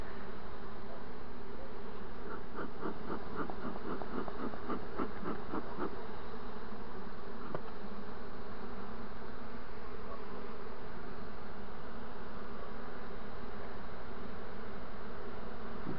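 A honeybee swarm streams into a hive, a dense steady hum of many bees droning close by, with a brief run of sharper buzzing pulses early on and no voices.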